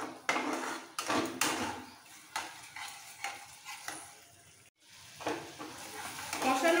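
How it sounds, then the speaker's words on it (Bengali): Spice paste with beaten sour yogurt sautéed for capsicum paneer, a soft steady sizzle under repeated scraping and stirring strokes of a spoon against the pan, close by with a brief pause midway. "একটু কষিয়ে নেব।"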